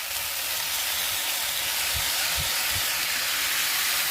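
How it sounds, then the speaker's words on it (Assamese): Eggplant frying in a hot pan gives a steady, close hiss of sizzling oil, even and fairly loud throughout with no voices. "আমাৰ বেঙেনা বৰ্তমান সিজিলেগৈ"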